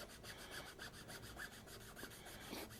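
Rhythmic back-and-forth rasping of sandpaper on a 3D-printed plastic part, close up and fairly quiet, strokes repeating about twice a second.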